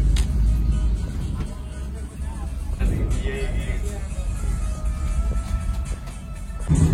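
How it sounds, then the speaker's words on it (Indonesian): Road traffic idles and rumbles in a jam, heard from inside a Harapan Jaya bus on the Bandung–Blitar route, with steady low engine drone, a few louder swells and occasional background voices. "Macet banget ini, di sini selalu macet,"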